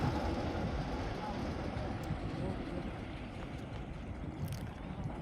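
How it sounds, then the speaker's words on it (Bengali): A motor trawler's engine drones in a steady low rumble as it moves away on the Padma River, with wind and water noise over it and no clear fade. "ট্রলারটি সাধনাখালী ঘাট থেকে দূরে কোথাও চলে যেতেছে"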